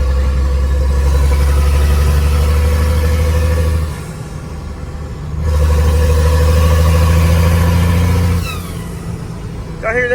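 A 12-valve Cummins diesel in a truck with a 5-speed swap revs in two long pulls, loud deep engine drone with a turbo whine rising over it, easing off between pulls.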